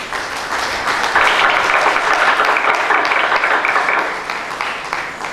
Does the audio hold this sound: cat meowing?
no